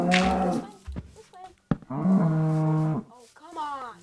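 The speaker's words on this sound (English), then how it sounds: "This cow's gonna leave. Come on, cow." Mooing from a cow in a video game, three long drawn-out moos in quick succession, loud and close, with a short thump between the first two.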